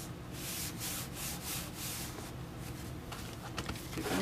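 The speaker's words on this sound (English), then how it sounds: "Give them a burnish." Manila folder paper pieces burnished together by hand, a steady close scraping rub that repeats in short strokes, louder toward the end.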